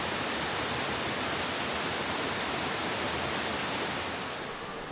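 Indian Creek Falls, a small waterfall on a creek at Deep Creek, roars as a steady, loud broadband rush of falling water that holds constant throughout with no voices.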